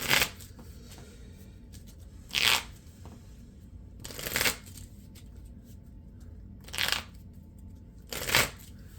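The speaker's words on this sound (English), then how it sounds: "I need to shuffle." A deck of Marvel Champions game cards is shuffled in five short riffling bursts spaced a couple of seconds apart, close and crisp, separated by quiet handling between shuffles.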